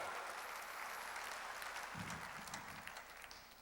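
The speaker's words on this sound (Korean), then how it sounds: "회개해야만이 천국에 들어가는 걸 믿으면 박수야" A church congregation claps during a worship service, a faint, distant wash of steady applause that continues evenly from start to end with no voices over it.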